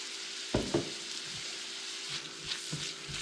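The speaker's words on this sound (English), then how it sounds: "we are just going to cook these onions until they begin to get translucent" Onions cooking in a pan with salt and black pepper give a steady, soft sizzle, broken early by a few light clanks of a utensil against the pan.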